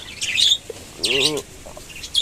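Small caged birds in a backyard bird house chirp and tweet after a night storm. Short bursts of bright, close calls come in three clusters, separated by brief quiet gaps.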